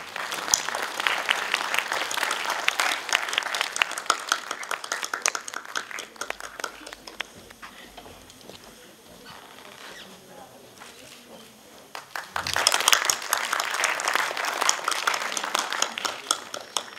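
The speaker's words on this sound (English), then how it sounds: "Round of applause, please." Audience applause at a formal Constitution Day felicitation ceremony, loud sustained clapping from a crowd that fades to a quieter lull, then swells again near the end.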